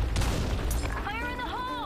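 Grenade blast in the online shooter BlackShot, a loud booming burst of game gunfire and explosion noise at the start, followed by a tonal voice line.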